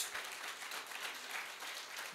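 A church congregation claps to welcome first-time visitors at Living Branch Church, a steady, moderately faint wash of many hands applauding together without pause.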